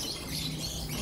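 Lovebirds chirp noisily, a dense high-pitched twittering flock kept for sale, heard steadily and fairly loud without any talk.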